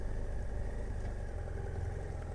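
A BMW F800GSA motorcycle with 100,000 km on it idles close by after pulling up at a meeting spot, giving a steady low rumbling thrum that stays even and unbroken.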